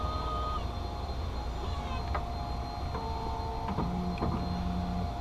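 An optical lens edger runs steadily while cutting a prescription sunglass lens for Giorgio Armani frames, giving a constant mechanical whir with a few brief tonal beeps and clicks and no voices.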